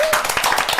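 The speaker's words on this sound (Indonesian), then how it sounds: "Kita tepuk tangan dulu dong." A few sharp hand claps ring out in a studio during a live football reaction show, crisp and close, lasting under a second with a faint voice around them.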